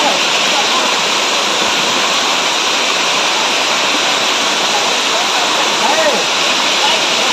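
Rani Duduma waterfall in Koraput gives a loud, close, unbroken roar of falling water that fills the whole clip, with voices faintly mixed into the rush.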